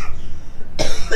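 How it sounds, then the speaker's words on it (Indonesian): One loud, sharp cough bursts out close by near the end, after a short stretch of background noise. "Yang interview juga batuk."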